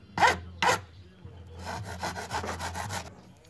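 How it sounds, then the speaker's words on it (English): A hand file rasps back and forth across a motorcycle exhaust pipe being cut down to a marked line: two strong strokes, then a quicker run of softer rhythmic strokes, close and alone without talk. "So right now, we are just filing to make sure that we get that thing onto our line here."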